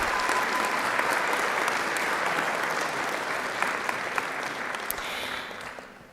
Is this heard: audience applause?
yes